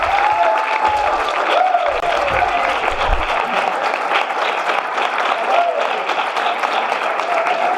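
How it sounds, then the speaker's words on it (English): An audience at a business presentation applauds the speakers, a dense sustained wash of clapping from a room full of people that holds steady throughout, with a few voices mixed in. "Just another round of applause for our speakers, Brett, Brianna, Josh."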